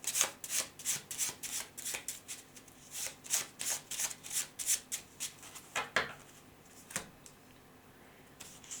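A deck of tarot cards is shuffled by hand, a quick run of crisp riffling swishes, close, that slows into a few scattered flicks near the end.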